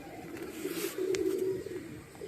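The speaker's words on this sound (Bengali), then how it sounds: "পায়রার বাচ্চা দুর্দান্ত পায়রা এসছে" A soft, low pigeon coo rolls out close by, a single throaty burbling call against a quiet background.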